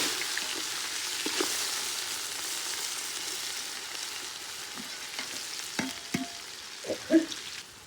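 Whole spices such as cloves, cardamom and dried red chillies fry in hot oil with a steady, soft sizzle, and a few louder clicks and stirring knocks sound near the end.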